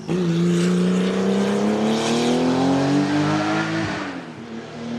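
A loud Porsche 935 race car engine roars at high revs, holding a strong rising tone, then drops off sharply with a pop near the end, flames shooting out.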